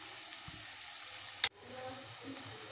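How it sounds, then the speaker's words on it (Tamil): Onions sautéing in a pan for a canned fish curry give a faint, steady sizzle, with one sharp clink of a utensil midway. "ஸோ இப்போ நல்லா வெங்காயம் வதங்கிடுச்சு"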